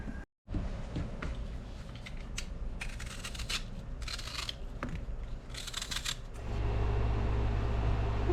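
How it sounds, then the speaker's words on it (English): Pears are peeled by hand with a knife, giving a run of close, crisp scraping strokes in uneven bursts, followed by a steady low rumble toward the end. "the first thing I have to do is peel some pears"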